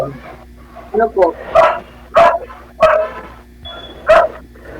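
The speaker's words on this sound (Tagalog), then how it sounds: "Ang ingay kasi ng aso." Several dogs barking in a Philippine neighbourhood, sharp close barks and yips coming in quick bursts about every half second, with people talking in the background.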